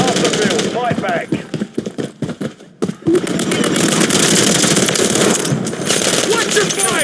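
Gunfire from the video game Call of Duty Modern Warfare 3 multiplayer, with loud rapid automatic bursts and single shots in dense volleys, a short lull partway through, and shouted voices mixed in.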